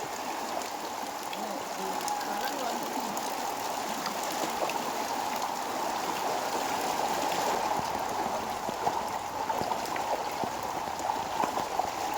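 Floodwater rushes through a house in Puthiyamputhur, Thoothukudi district, with a steady, loud, broadband gush and splash. It continues without a break for the whole stretch.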